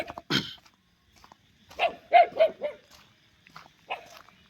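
A dog gives a few short, separate barks and yelps with quiet pauses between them, fairly close.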